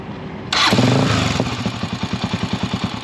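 A motorcycle with a silencer fitted on a single exhaust fires up abruptly and revs, then settles into a loud, close, throbbing idle with steady pulsing beats.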